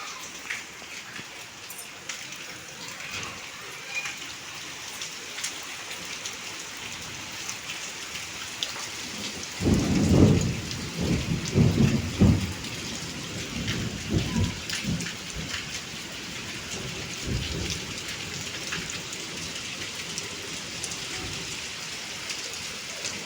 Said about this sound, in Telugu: వాన వస్తుంది చాలా ఎక్కువగా వస్తుంది